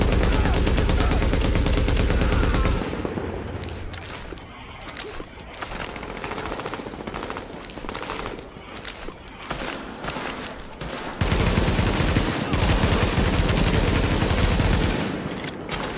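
Rapid bursts of automatic gunfire in the video game Tom Clancy's The Division, loud, dense, overlapping volleys with brief lulls between strings of shots, continuing throughout.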